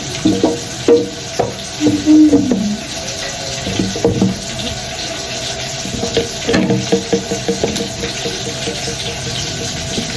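Onions frying in a home kitchen pan for a dried Lake Turkana fish dish, giving a steady low sizzle with irregular clanks and scrapes of stirring, fairly close, with no talking.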